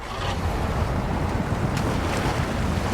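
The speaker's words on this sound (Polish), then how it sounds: "słychać było deszcz walący o kabinę" Steady rain drums against a truck cab in the off-road driving game SnowRunner, a dense, continuous wash of patter and hiss with no talk.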